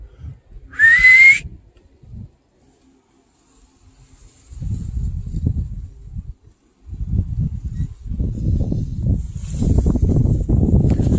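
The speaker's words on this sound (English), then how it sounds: "So, whistle in 3, 2," A person gives one short rising whistle outdoors, followed by quiet and then heavy rustling and footsteps through brush for the rest of the time.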